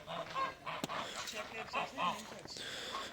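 Geese roaming outdoors on a farm, a flock of around seventeen or eighteen, give repeated nasal honks close by, mixed with people talking throughout.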